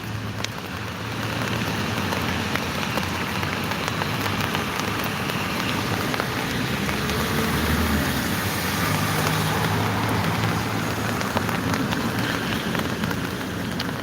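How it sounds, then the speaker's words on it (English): Steady rain falls on a surface, a continuous dense patter with no voices, holding an even level throughout. "Start to rain again because it's very cloudy."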